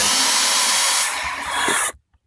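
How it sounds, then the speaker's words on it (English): A power drill on a slow setting whirs steadily while backing out the screws holding a car door speaker in a 2012 Subaru Impreza/Crosstrek, running loud and close for almost two seconds before cutting off abruptly into silence. "take our drill in slow mode"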